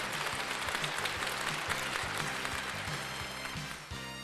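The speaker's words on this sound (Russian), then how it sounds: "Ваши аплодисменты, друзья" Audience applause at a song festival awards moment, steady dense clapping from a crowd, with music playing underneath.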